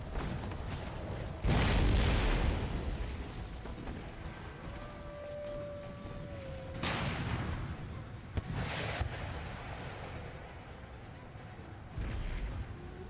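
Battle explosions and cannon booms from an Empire Total War fight at Vienna, several loud bursts spread across the scene with rumbling decay and a constant background din of combat between them.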